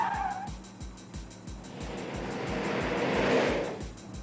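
Film car chase with a car driving into oncoming traffic: a loud vehicle rush builds and swells toward the end, with a steady pulsing beat running underneath.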